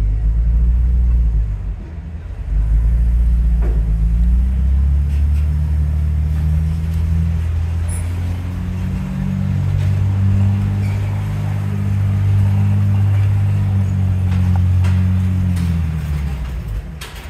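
A 2024 Ford Bronco Sport crawls slowly on trail control, its engine a loud, steady low rumble with gentle swells in pitch and no voices over it.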